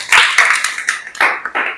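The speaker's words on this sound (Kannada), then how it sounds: "ಅದ ಚಪ್ಪಾಳೆ ಹಾಕಬೇಕು" Children in a sixth-grade classroom clap together in a short burst of applause, a few quick, uneven rounds of hand claps close by.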